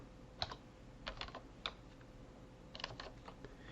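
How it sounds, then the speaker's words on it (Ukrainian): Keys on a computer keyboard are tapped in short, quiet clusters of clicks with pauses between, as a command is typed, close and alone without talk. "І в дужках, в лапках надрукуємо тартл."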